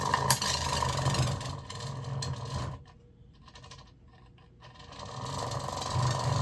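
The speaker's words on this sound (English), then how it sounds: "This is how the servo motor works." Servo motors drive a robotic hand through a whirring, ratcheting mechanical movement, steady and fairly close, dropping quieter for a couple of seconds mid-way before the grinding motor noise returns.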